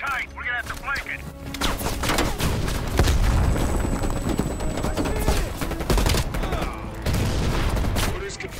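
Dense, continuous machine gun fire and explosions from the Black Ops Cold War campaign roar throughout, loud and chaotic, with voices talking over the battle.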